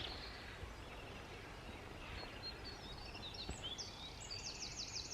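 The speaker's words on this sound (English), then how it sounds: "That was the wren, accompanied by the song thrush." A wren and a song thrush singing outdoors: the wren's rapid trilling warble overlapped by the thrush's clearer repeated whistled phrases, moderately faint over a steady background hiss.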